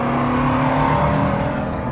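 A first-series Alfa Romeo 155 V6, one of few in Brazil, drones steadily from the cabin while driving, its engine holding a continuous hum at constant revs with no voices over it.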